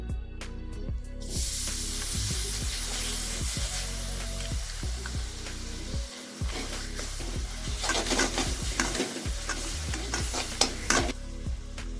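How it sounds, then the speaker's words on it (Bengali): A coconut filling fries in a pan for dudh gokul pitha, with a steady hissing sizzle under repeated scraping strokes of a spatula that grow busier and sharper toward the end, close and without voices. "চলো আমরা এবারে নারকেলের পুর ভেজে নিচ্ছি"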